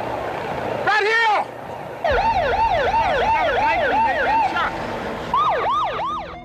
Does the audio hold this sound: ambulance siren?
yes